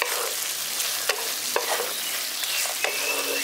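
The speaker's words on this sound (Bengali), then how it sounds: "ভালো করে মিশিয়ে দিচ্ছি।" A spoon scrapes and stirs spiced pumpkin curry with dry-roasted spice powder in a pan over a steady background sizzle, giving several distinct close scraping strokes.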